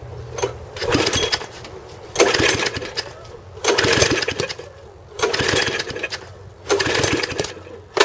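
Small MTD rototiller engine, choked, cranked repeatedly: five bursts of pull-start cranking and brief sputtering firing, each a couple of seconds long with short pauses between, loud and close.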